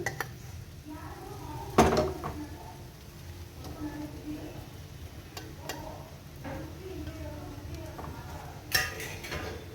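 Roasted chillies go into a mixer jar, with two sharp clinks of the jar and utensil set against quieter soft kitchen clatter.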